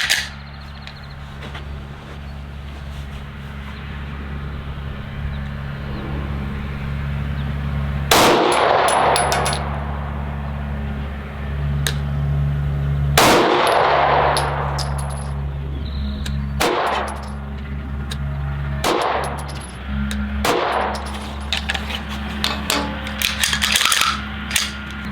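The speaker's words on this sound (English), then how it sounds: "5 rounds, slow fire, supported from a bench, 10 yards with the P320 iron sights" SIG P320 pistol fired slow-fire from a bench rest at 10 yards with iron sights, roughly five sharp loud reports spaced several seconds apart over steady background hum, with fainter metallic clinks between shots.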